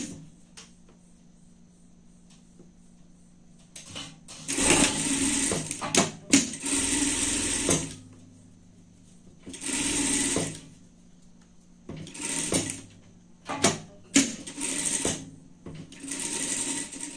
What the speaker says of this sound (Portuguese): E vamos passar uma costura aqui, juntando a nossa peça.